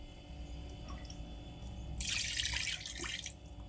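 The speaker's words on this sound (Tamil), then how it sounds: "மட்டன் முங்குற அளவுக்கு தண்ணி ஊற்றிக்கணுங்க." A steady stream of water pours into a pot of mutton midway, splashing for about a second and a half over a quiet humming background.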